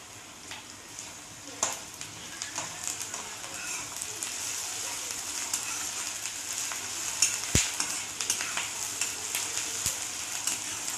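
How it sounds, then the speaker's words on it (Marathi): Onion frying in a pan with ginger-garlic paste, for dhaba-style whole masoor dal, sizzles steadily for the whole stretch, with occasional scraping clicks from a spoon stirring through it, close and moderately loud. "आता कांदा परतूत असताना ह्याच्यामध्ये आपल्याला अद्रक आणि लसूणची पेस्ट टाकायची आहे"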